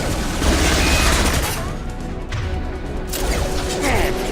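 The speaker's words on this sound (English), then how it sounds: "And I just basically shoot it a bunch of times." Gunfire from shooting at an enemy in Mass Effect 2, a dense, clattering burst of shots and impacts layered over game noise and a steady low rumble, loud throughout.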